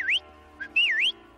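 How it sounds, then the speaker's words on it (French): A cartoon character whistles to call an animal, two short rising-and-falling tones with a brief chirp between them, clear and close in a quiet scene. "Il aimait bien m'entendre siffler."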